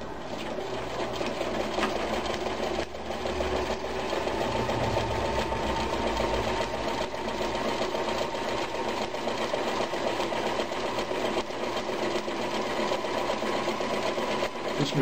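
A vintage Kenmore 148 14220 sewing machine runs steadily and fast on a long table, its motor hum and needle chatter continuous and close for the whole stretch, with no talk.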